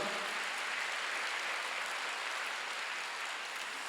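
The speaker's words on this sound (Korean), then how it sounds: "박수로 영광 돌리시죠" Congregation applause during a Korean church Sunday worship service, a steady dense wash of clapping that fills the room for the whole stretch without letup.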